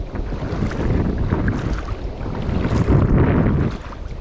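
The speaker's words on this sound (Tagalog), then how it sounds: "Lakas ng hangin." Strong wind roars and buffets steadily across the whole clip, a loud rumbling gusting noise with no voices.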